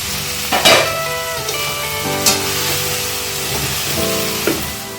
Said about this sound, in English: uncover a pan and turn flame from low to medium, and continue stirring gently,